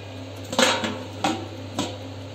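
A lid set onto a hot kadhai, several close metallic clanks and scrapes spaced over two seconds, over a steady low hum.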